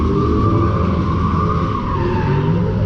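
At a street sideshow, cars skid with a loud, continuous squeal of tires and engine roar that stays steady and close, with no pause for nearly three seconds.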